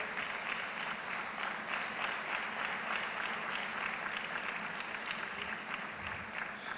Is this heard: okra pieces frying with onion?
no